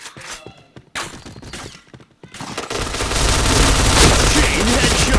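Rapid gunfire bursts in the shooter game Point Blank, scattered crisp shots at first, then a dense, loud sustained fusillade, with a voice speaking over the action.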